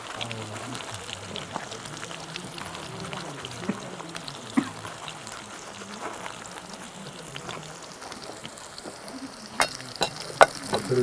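Garlic and onions frying in a pan for a rustic Bastar-style desi chicken dish, with a steady low sizzle and scattered scraping stir strokes; faint background noise and brief clatters near the end.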